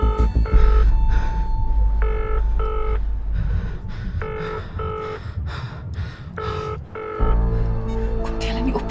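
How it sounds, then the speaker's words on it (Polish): A telephone rings in repeated electronic bursts, each trill cut by short pauses, loud over a tense rumbling background with a sustained tone toward the end. "Odbieraj ten telefon."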